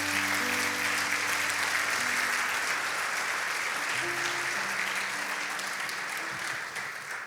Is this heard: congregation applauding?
yes